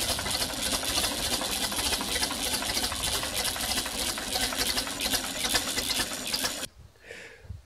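An old Ferguson TED 20 tractor engine runs steadily after a choked start, a loud busy mechanical clatter that continues for most of the clip before cutting away to near silence at the end.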